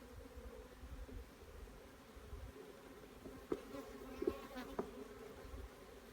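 Honeybees working at a hive make a faint, steady buzzing drone, with a few louder bees passing close now and then against a quiet outdoor background.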